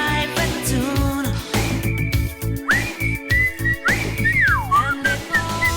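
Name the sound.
person whistling a song tune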